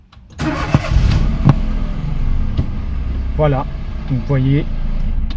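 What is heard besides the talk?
Citroën C1 / Peugeot 107 / Toyota Aygo car engine starting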